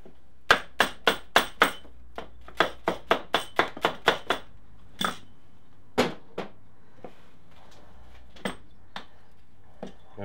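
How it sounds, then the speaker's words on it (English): A rubber mallet strikes parts of a Suzuki Bandit motorcycle during gearbox repair work: quick runs of sharp, close knocks in steady rhythm, then a few scattered single blows that fade toward the end. "I almost forgot my trusty rubber mallet."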